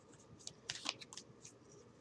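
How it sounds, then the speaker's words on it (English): A deck of tarot cards being shuffled by hand during a reading, heard as soft, close riffling and flicking bursts at low volume with no speech. "So I'm going to just shuffle that while it is swinging."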